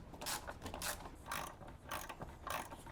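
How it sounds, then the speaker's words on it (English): A ratchet wrench unbolts the brake master cylinder on a BMW E46 325i Touring, giving quiet, close bursts of rapid clicking, about five separate strokes spaced evenly across a few seconds. "And now I'm gonna start unbolting the brake master cylinder."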